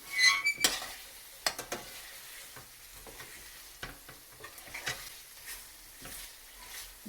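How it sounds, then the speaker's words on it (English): A spoon stirring a chicken yogurt fry mixture in a pan over a low flame, with repeated scraping strokes and soft sizzling, a louder clatter at the start, no talk. "Keep on stirring and then let the whole mixture be coated to the pieces properly."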